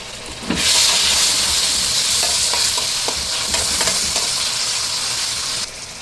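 Garlic and ginger paste hit hot oil with a sudden loud hiss that settles into a steady, close sizzle, with a few soft stirring scrapes, before the sound drops off near the end.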